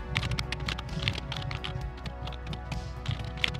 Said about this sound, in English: I'm going to type in the Hello World program number 4